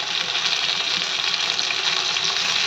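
Chopped tomatoes frying in a hot pan give a loud, steady, dense sizzle with no break and no talk.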